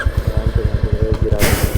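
Royal Enfield Meteor 350 motorcycle pulling away on a trail, its single-cylinder engine giving a steady, close thumping pulse with a brief burst of broadband noise near the end.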